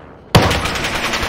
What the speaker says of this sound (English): That's a headshot.